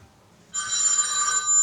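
A telephone starts ringing partway through, a loud, close, continuous electronic trill that holds steadily after a quiet start, with no speech over it.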